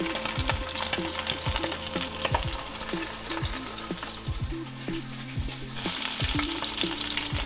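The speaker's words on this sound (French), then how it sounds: "on va bien les laisser dorer de chaque côté." Lamb shanks sear in a hot pan for a slow-cooked dish, giving a steady loud sizzle with scattered pops and crackles and occasional clinks from turning the meat, with no talking.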